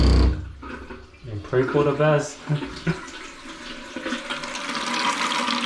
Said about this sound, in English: So now I'm going to turn on the water